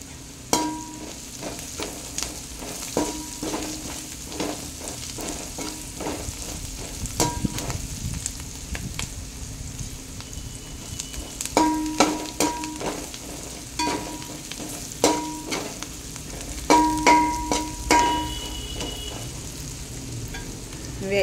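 Food fries in a pan for a chicken fried rice biryani, a steady sizzle broken by repeated sharp clicks and scrapes of a spoon stirring against the metal, close by, with no voices.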